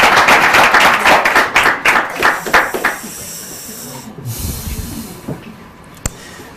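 A church contest audience breaks into loud, dense clapping that tapers off over about three seconds, leaving quiet room noise and a single sharp tap near the end.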